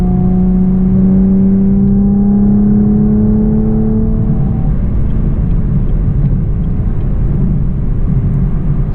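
A Camaro RS V6 1LE accelerates with a steady engine drone and rising tone over constant road and wind rumble, loud and close throughout, the revs climbing in the first half before settling into a dense cruising roar.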